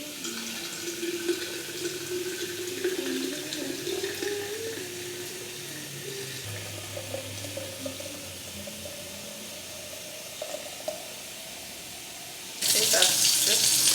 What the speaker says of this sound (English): Let me put some water here now.